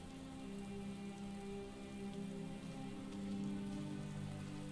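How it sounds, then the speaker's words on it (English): Steady rain in the video game The Elder Scrolls V: Skyrim Special Edition patters without a break, with a low hum sitting underneath; quiet and even throughout, no voices. "Oh, it's raining."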